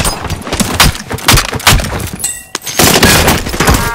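Rapid bursts of video game gunfire crackle through the whole stretch, dense and loud, with a brief lull and a sharp crack midway before the shooting resumes.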